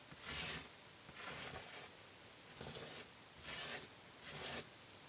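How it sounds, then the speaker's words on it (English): Five rhythmic scraping strokes of a tool dragging excess thin paste off a mixed media card, each a soft rasping sweep with short pauses between, close and fairly quiet. "So I'm scraping off the excess."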